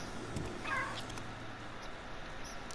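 A cat in the video game Stray gives one brief meow early on, soft against a low game ambience, with no one talking over it.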